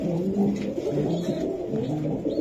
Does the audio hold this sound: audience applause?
no